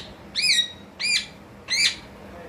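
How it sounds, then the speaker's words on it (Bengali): Two pet parrots screeching in short, harsh calls at a home during a Raksha Kali puja gathering, three loud squawks spaced about half a second to a second apart over a low background hum. "ছোট পাখিটা বেশি চেঁচাচ্ছে।"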